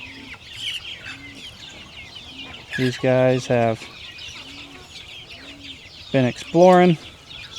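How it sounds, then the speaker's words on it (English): Chickens cluck and call in a farmyard chicken yard, with soft repeated clucks and two louder, harsh squawking bursts, while a person talks over them. "You saw us bringing chickens out into the chicken yard"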